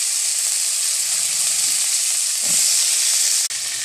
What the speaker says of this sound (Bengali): ওই তেলেতে পটলগুলো ভেজে নিচ্ছি